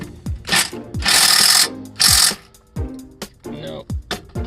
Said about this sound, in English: We're using a 14mm socket, and I'm just going to use an impact driver to remove them.